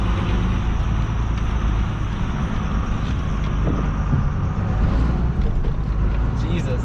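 A hotshot truck's engine drones loud and steady as it drives offroad in four-wheel-drive low, a continuous low rumble with road and cabin noise throughout.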